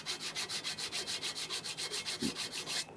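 A flat piece of wood rubbed by hand across an aluminum intake manifold surface to clear old gasket material, about fifteen quick, even back-and-forth strokes, close and steady.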